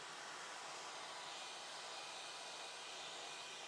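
A mini electric fan runs with a steady, soft whirring hiss that stays even and unbroken from start to finish, with no other sounds.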